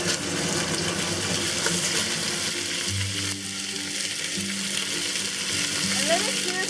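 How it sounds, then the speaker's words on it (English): Beef shanks sear in a hot braising pot for Taiwanese beef noodle soup, with a constant close sizzle and crackle under a few soft stirring and shifting sounds, and no talking. "the first thing we're going to do is sear off the beef shanks"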